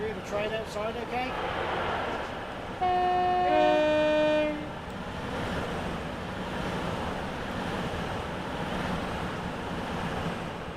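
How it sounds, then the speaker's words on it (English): A real train passes outside a room, its horn sounding a loud sustained blast of a couple of seconds, followed by a long rumble of rolling wagons beneath a steady indoor fan hum. "You hear the train outside, okay?"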